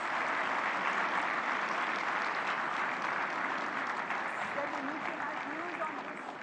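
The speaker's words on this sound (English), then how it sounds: "Let's have a big round of applause." Large conference-hall audience applauds steadily as the Prime Minister of India arrives at Bharat Mandapam for an AI summit, a dense continuous wash of clapping that fades slightly at the end, with faint voices mixed underneath.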